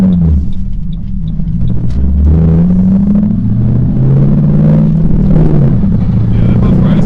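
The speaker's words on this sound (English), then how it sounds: "So Megan's gonna have to gently hit the throttle." A 2007 Mustang GT engine rumbles loud and close as the throttle is gently applied, pitch rising and falling in a steady growl, with faint ticking early on.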